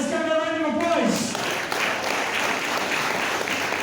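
An audience at a sheep-shearing show applauds a child volunteer, a brief burst of clapping following a voice, then fading under continued talk.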